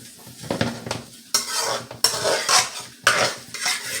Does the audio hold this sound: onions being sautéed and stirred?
yes